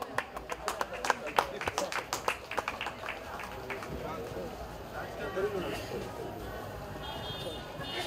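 An audience at a Shyama Puja celebration claps, a burst of sharp hand claps that thins into scattered clapping amid crowd noise and talk, heard from a moderate distance.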